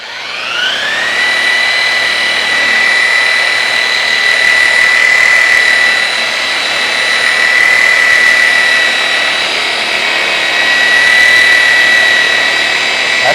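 Polishing wheel buffing a stainless steel exhaust for a 1932 Ford, a loud, steady high-pitched whine that spins up at the start and holds without pause throughout.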